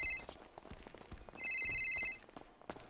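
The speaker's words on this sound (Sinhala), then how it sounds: "කෝල් එකක් එන්න වාගෙන්නේ" A phone rings with an incoming call in one short, bright electronic burst amid quiet rustling and soft clatter in a room.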